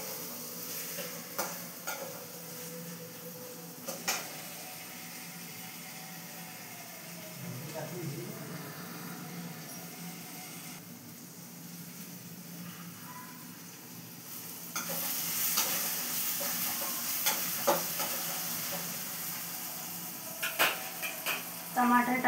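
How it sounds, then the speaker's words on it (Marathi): Tomatoes frying with onions in a pan, a soft steady sizzle with occasional stirring scrapes and utensil clinks, growing a little louder later, while someone talks over it. "आता टमाटर टाकून घेतलं मी. टमाटर होऊ द्यायचं मस्त."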